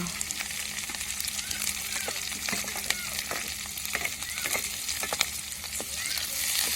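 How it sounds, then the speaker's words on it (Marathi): Red chillies fry and sizzle in a hot pan with garlic, crackling steadily as they are stirred, with frequent sharp spatters and pops, close and fairly loud, no voices. "आता मिरची आता मिरची टाकू हा"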